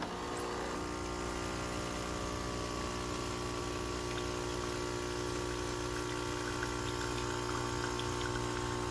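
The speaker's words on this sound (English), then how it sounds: "we're just gonna go ahead and start the pump by pressing the button here" A Barsetto espresso machine's pump running while dispensing hot water, a loud, steady, unbroken mechanical hum with liquid flow that holds constant from start to finish, with no talking.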